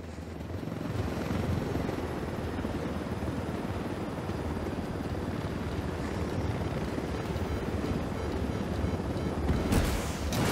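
A helicopter in the video game Ghost Recon Wildlands produces a dense, continuous rotor roar with a low throbbing beat, steady and fairly loud, with a louder burst near the end.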